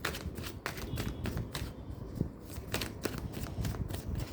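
Tarot cards being shuffled and drawn, a steady soft papery riffling and flicking at close range, with brief sharper snaps as cards are handled.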